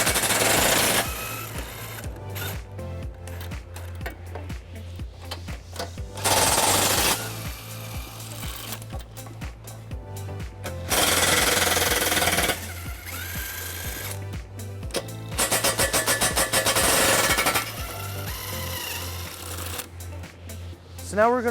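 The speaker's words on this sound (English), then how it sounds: "We are going to remove the 4 nuts that are holding it into place" Power tool with an 18mm socket taking off the four nuts that hold the bumper beam of a 2021 BMW X3, in loud repeated bursts of ratcheting and whirring separated by quieter pauses and shop noise.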